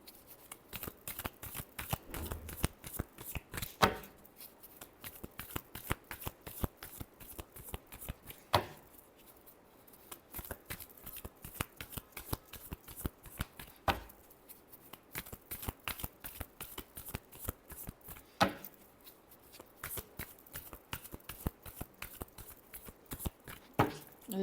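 Tarot cards being shuffled by hand in a steady riffling rhythm, close and crisp, with periodic sharper snaps as the deck is squared, continuing for the whole stretch without talk.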